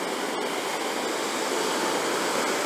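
Ocean waves wash onto a beach at night, heard as a constant, dense roar of surf with no breaks and no voices.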